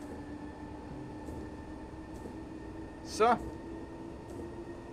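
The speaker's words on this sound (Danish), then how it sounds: "Det accelererer godt, det her tog." DOT train on line F+ toward Klampenborg accelerating, a steady rumbling hum with a low whine inside the carriage, a short burst of squealing partway through, and a voice speaking briefly.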